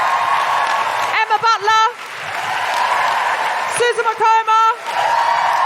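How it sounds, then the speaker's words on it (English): Live podcast show audience applauding and cheering at the close: continuous crowd clapping and whooping, broken twice by a host calling out names over the noise. "Can I have a huge round of applause for Amit Shah"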